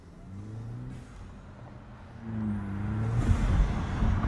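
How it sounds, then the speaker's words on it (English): A GTS car's exhaust rises and falls as the engine revs, two swelling pulls, the second louder and building toward the end. "I feel like I can hear more exhaust too"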